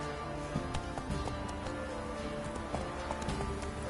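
The horse Roach gallops in The Witcher video game, its hooves clip-clopping in a quick, steady rhythm close by over a low background bed.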